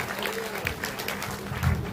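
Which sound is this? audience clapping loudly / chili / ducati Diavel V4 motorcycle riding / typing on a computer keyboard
audience clapping loudly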